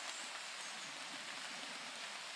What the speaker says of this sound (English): You can't see it, it's really raining